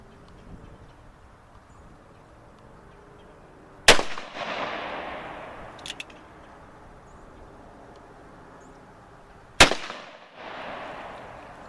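Two loud, sharp gunshots from a Taylors and Company 1873 Colt revolver, fired outdoors into a wooden pallet, spaced about six seconds apart, each followed by a ringing decay and a faint echo.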